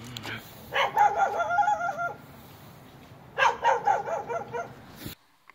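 Dog barking at people from the top of a fence outdoors, two bursts of several sharp, fairly distant barks separated by a quiet pause.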